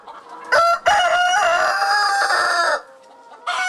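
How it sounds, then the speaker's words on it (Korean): A rooster crows loudly and close by in a sunlit free-range poultry barn where hens and roosters roam together, one brief call, then a long drawn-out crow, and another beginning after a short pause. "햇빛이 드는 양계장에서 수탉의 힘찬 울음소리가 울려 퍼집니다."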